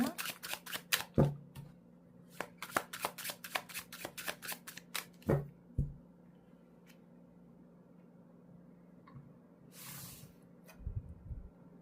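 Tarot cards being shuffled close up, with rapid riffling bursts and sharp taps over the first six seconds, then quieter handling with a brief soft rustle near the end.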